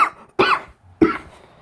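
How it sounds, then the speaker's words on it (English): A person with a lingering cold gives a few sharp, close coughs, three short bursts separated by brief silences. "I just coughed once, so."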